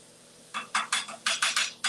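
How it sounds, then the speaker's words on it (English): A utensil scrapes and clinks against a bowl as chopped red and white onion is stirred together, about eight brisk, evenly spaced strokes up close, with no talking. "All mixing it together."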